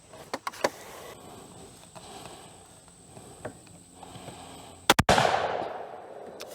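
A .220 Swift rifle fires one sharp, loud shot outdoors, followed by a brief decaying rumble, with a few quieter clicks and handling sounds beforehand.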